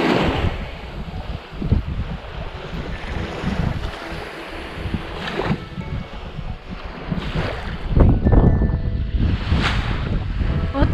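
Winter sea waves breaking on the beach at Vityazevo, a steady rushing surf with periodic louder crashes. Wind buffets the microphone throughout, and no voices are heard.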